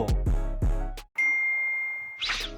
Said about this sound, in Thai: แจ้งเตือน iPhone มาอนอยู่บนจอเสียวมีได้ด้วยเหรอ